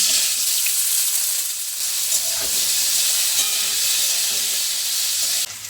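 Potato pieces drop into hot oil already seasoned with cumin seeds, dried chilli, leaves and asafoetida, setting off a bright, hissing sizzle that holds steady with a few small pops and stirring clatters, close and with no voices.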